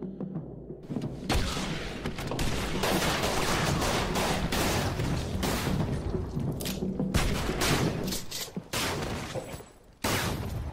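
Sustained dense gunfire sound effect in a Lovecraft horror audiobook, a loud continuous volley of overlapping shots and booms lasting several seconds with brief gaps near the end, no voices.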